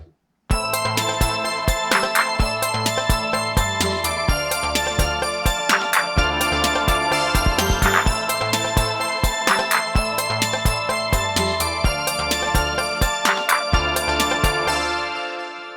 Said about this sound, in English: how to make those 80s style drums that are so fun and hit so hard even in 2026